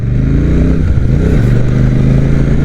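A Royal Enfield Super Meteor 650 motorcycle pulls away in first gear, its loud, close engine thumping steadily with a brief rise and dip in pitch as it starts to roll.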